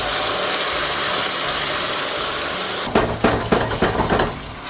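Garlic and honey sauce with sugar hits a hot frying pan with toasted garlic, bursting into loud, crackling sizzle after a steady background hiss, with several sharp surges of spattering.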